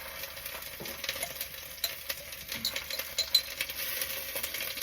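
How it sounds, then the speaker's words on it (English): Steady frying sizzle in a pan in a caravan kitchen, a continuous crackling hiss with small pops and a few scraping stirs, close by and fairly quiet, no talking. "hear that? A little sizzle."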